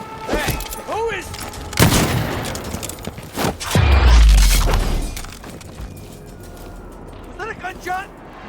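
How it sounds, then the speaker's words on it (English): Gunfire in the stealth video game Dishonored, with a sharp shot and a deep booming crash and debris, and a voice speaking around the blasts. "Was that a gunshot?"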